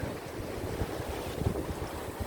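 Strong wind buffets the microphone while rough waves surge against the seaside rocks at Adeul Rock in Jumunjin, Gangneung, a continuous loud roar with no talk.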